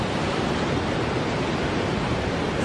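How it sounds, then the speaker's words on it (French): Ocean waves crash in a continuous loud wash of surf, a dense, steady roar with no break and no voices. "Une vague immense frappe de plein fouet"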